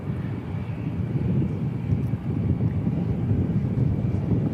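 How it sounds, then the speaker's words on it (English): Airliner NZ525 turns onto final approach at Christchurch Airport, heard as a steady, distant low rumble mixed with wind buffeting on the microphone, with no voices. "It's NZ525 just turning onto finals."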